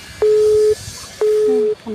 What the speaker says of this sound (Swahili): Amekata simu nini?